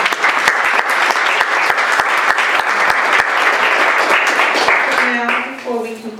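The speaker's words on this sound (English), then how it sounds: "Let's have another round of applause for her." Audience applause fills the hall at a women's studies in religion student conference: dense, steady clapping from many hands that tapers off near the end as a voice begins to speak.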